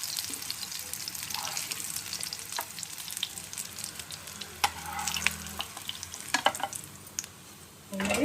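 Fish fries in a couple of spoons of oil, a close, steady sizzle with crackling bursts and scraping or stirring noises, the spatter growing louder near the end.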